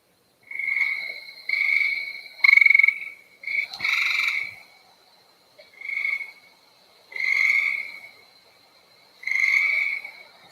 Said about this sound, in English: So that long trilling call, that is the gray tree frog.